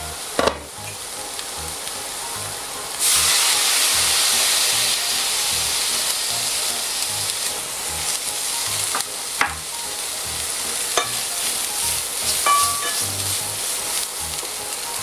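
Veal paupiettes flambéed with Armagnac in a pan: a sharp whoosh as the spirit ignites, then a loud, steady roar of sizzling and hissing with occasional clinks and pops, no talking.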